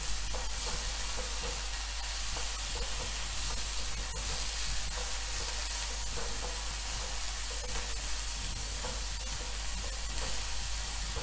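Coriander leaves with their stems stir-roasting in a hot pan for tikhat gharge, a steady low sizzle and scrape of stirring running continuously and evenly throughout, with no one talking.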